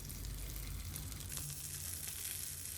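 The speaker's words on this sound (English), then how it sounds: "sear on medium heat until they are light golden brown from both the sides" Pieces of tilapia fish sear in a hot pan over medium heat, giving a steady, faint sizzle that holds without a break.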